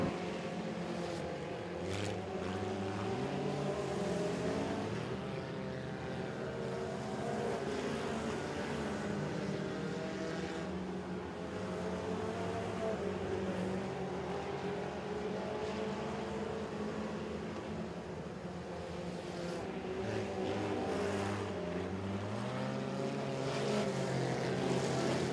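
Freedom Four class race cars lap a dirt oval at Moler Raceway Park during a heat race, their engines droning and rising and falling as the pack circles, heard at a distance without voices.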